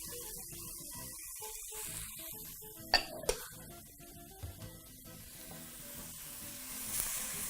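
Chopped tomatoes and onions hit hot oil in a cooking pot, giving a continuous soft sizzle with a couple of sharp clatters of the pot and spoon in the middle, no talk.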